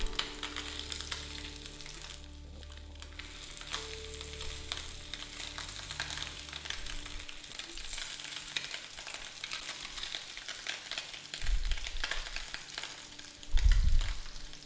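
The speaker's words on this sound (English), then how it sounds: "cook for approximately 90 seconds until we can start to see some lovely caramelisation" Scallops searing in a hot pan, a steady close crackling sizzle that runs throughout, with a low rumble early on and a few louder bumps near the end, no voices.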